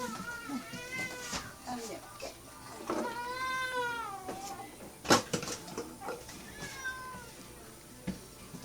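Cat in a house meows repeatedly, drawn-out calls rising and falling at close range, with a sharp knock partway through and people talking around it.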